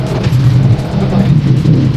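A delivery vehicle bringing a dental chair pulls up with a steady, loud engine drone that swells slightly, close by with no voices.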